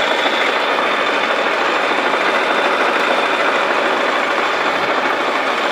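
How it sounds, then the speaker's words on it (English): A Logan metal lathe runs with its feed clutch engaged and the carriage moving, giving a loud, steady, even mechanical drone with constant whirring and no pauses or voices. "When I tighten that, it engages the clutch and moves the carriage."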